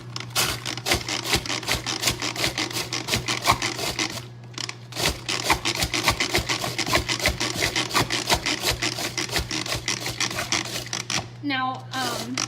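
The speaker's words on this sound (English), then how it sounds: "And I just pump the handle." Handle of a manual food processor pumped in a fast, regular rhythm, each stroke a rasping, ratcheting whir with a steady low hum beneath, pausing briefly once and ending with a faint squeak.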